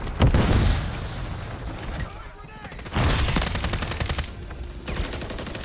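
Rapid bursts of automatic gunfire in a PC shooter's hardpoint match, loud and dense with heavy booms, a brief lull in the middle, then renewed volleys.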